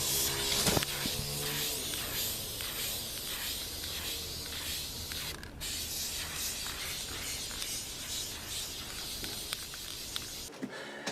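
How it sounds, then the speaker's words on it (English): An aerosol can sprays paint in a long steady hiss, broken by brief pauses and short bursts, close and fairly loud throughout. "Now that quite possibly the worst spray paint job in history is done"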